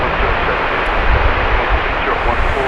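An Airbus A319 airliner from Guadalajara touches down on runway 18 right at DFW, a steady broad jet roar holding at a loud level for a few seconds, with no voices over it.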